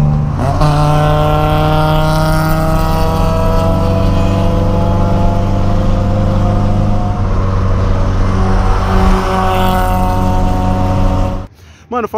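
A modified VW Golf 1.8 with a straight-through exhaust at a car club meet holds a loud, steady droning engine note that rises slightly near the end, close and continuous before cutting off.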